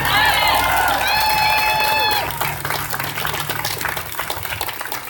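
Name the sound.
audience clapping for teenage speakers at a gun control rally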